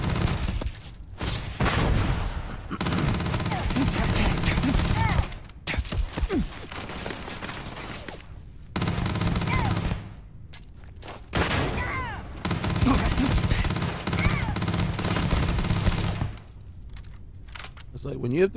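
Gunfire in the Starfield video game, long dense bursts of rapid automatic shots separated by brief pauses, loud and close, with someone talking over parts of it.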